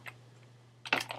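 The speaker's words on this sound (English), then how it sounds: "I'm just pressing return on my keyboard to rename it." Keystrokes on a computer keyboard, pressing return: a faint single click, then a quick cluster of louder taps close to the microphone in a quiet room with low hum.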